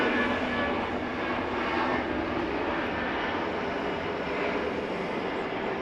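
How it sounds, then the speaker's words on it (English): A Delta Boeing 717 jet roars steadily at Atlanta Hartsfield airport at night, a loud, continuous engine rumble and broadband whoosh holding constant throughout, with no voices. "Why, there's the Boeing 717."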